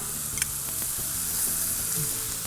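Chopped spring onions sizzle and fry in melted butter in a pan, a steady close crackle with faint stirring and no talk.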